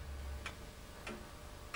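A 19th-century automaton clock, its beam engine swinging as a pendulum, gives three crisp, evenly spaced ticks over a faint hum, close and clear with no voices.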